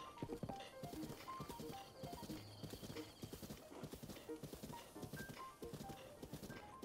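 Horse hooves clip-clop rapidly in a galloping rhythm in The Legend of Zelda: Breath of the Wild, close and steady, with a brief whinny and faint game music underneath.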